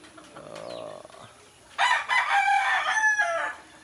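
An Asil rooster on a rainy mountain farm crows once, loud and near, after a shorter, softer fowl call.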